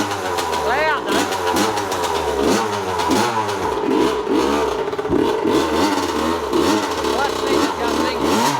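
A vintage 80cc dirt bike engine runs loud and close, buzzing and revving in repeated rising and falling bursts, while people talk over it.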